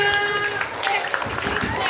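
Children clapping together in a school assembly for a Maulid Nabi celebration, a brief burst of scattered applause running throughout with voices mixed in.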